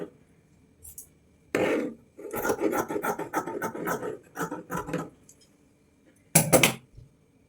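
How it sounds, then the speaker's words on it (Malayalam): Scissors cut cloth cross pieces for an umbrella frock, several bursts of rasping, scraping snips close by, with a final short crunchy cut near the end. "ഇതേപോലെ ക്രോസ് പീസ് കുറച്ചും കട്ട് ചെയ്യാം."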